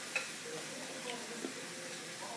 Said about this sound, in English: You can hear it just sizzling away.